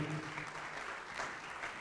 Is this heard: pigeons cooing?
no